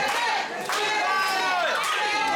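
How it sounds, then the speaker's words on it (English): A pro wrestling arena crowd cheers and chants at a PWA Wrestling show during a United States Championship match, a loud, continuous roar of many voices with rising shouts, while a commentator talks over it. "Crowd coming to life behind the defending U.S. champion here"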